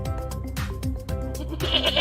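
A goat bleats in short, quavering cries repeated several times, with farmyard noise in the background.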